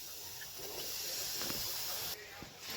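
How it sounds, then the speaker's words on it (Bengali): Sugarcane jaggery pours into a hot frying pan with a steady hiss and sizzle that continues throughout, then briefly drops in intensity near the end. "প্রথমেই গুড়টা ঢেলে দিলাম"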